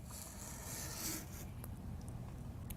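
Scissors cutting through T-shirt fabric, a soft sustained rasping snip with a few faint clicks, close and quiet, no talking.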